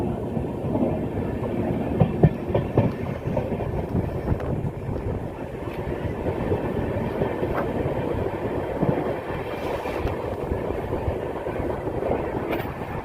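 A train on the Rajkot to Delhi route pulls out of Than station, heard from on board as a steady rumble with rhythmic clickety-clack of wheels and occasional knocks, no talk.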